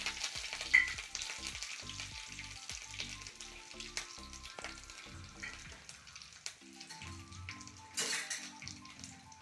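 Garlic and curry leaves crackle and sizzle in hot oil left over from frying a peanut masala, with a soft, uneven spatter and occasional stirring clinks, quiet and close.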